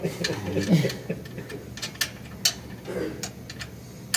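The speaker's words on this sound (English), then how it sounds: "Well, this wrench sucks." A hand wrench works screws loose on a Mitsubishi MV series wire EDM machine, giving scattered metallic clicks and ratcheting ticks up close, with a voice murmuring briefly.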